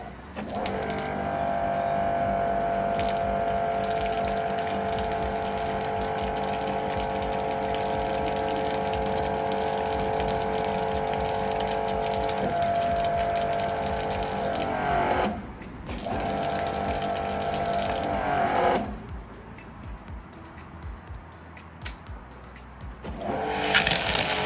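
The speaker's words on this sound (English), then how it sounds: "power up the pressure washer and repeat until water coming out of the pressure washer doesn't look milky from all the tiny air bubbles in it" A V-TUF V7 pressure washer runs with a steady mechanical whine and pump drone for a long stretch, then cuts out briefly, restarts and stops again near the end.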